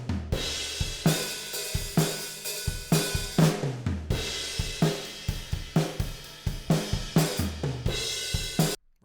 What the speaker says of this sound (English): So now this kit altogether sounds like this.